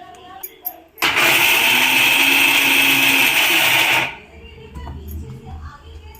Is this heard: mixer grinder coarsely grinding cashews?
yes